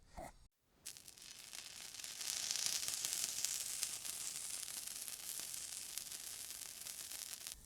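Cheese frying on a Blackstone griddle, a steady soft hiss and sizzle that swells after a brief pause and carries on evenly, with no voices.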